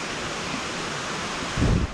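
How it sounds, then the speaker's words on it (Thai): Stream water at Mae Kampong village rushes in a steady broadband wash, close and constant, with a brief louder low rumble near the end. "น้ำลำธารมันไหลมาไหล ไหลจุดเลยอะ่ะ"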